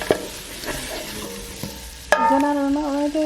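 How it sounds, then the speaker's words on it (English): Potatoes fry in a pan while being stirred, scraping clatters and light sizzle, then a louder tonal sound rises near the end. "I'm about to cook the potatoes"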